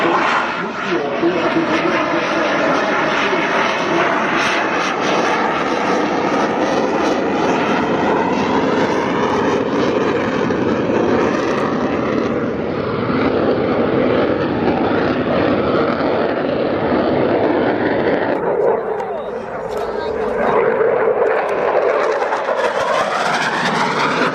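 A military jet roars through a short landing at the Royal International Air Tattoo air show, a loud sustained engine rumble that holds steady then shifts near the end as the aircraft slows.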